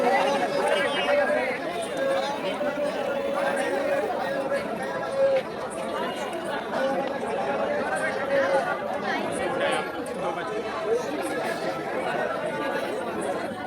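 Crowd chatter at the Sree Bhumi Durga Puja pandal during Navami, a dense, continuous babble of many voices close around, steady and busy throughout.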